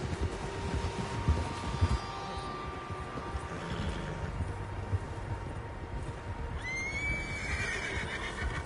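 Several horses neigh and whinny in Red Dead Redemption 2, with hooves clip-clopping under a steady outdoor ambience; a high whinny rises clearly near the end.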